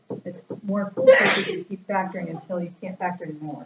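A single loud sneeze bursts out midway through a precalculus lecture, breaking into the teacher's steady talk about factoring, which continues right after.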